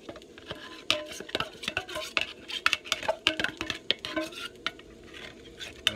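A spatula working a thick beer mixture in a pot, scraping and knocking against the metal in an irregular rhythm of sharp clicks and gloopy drags, close up and without voices.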